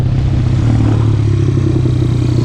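A dirt bike engine, running lean on its first ride of the year, makes a loud, close and steady mechanical drone with a rapid pulsing beat throughout, with no voices.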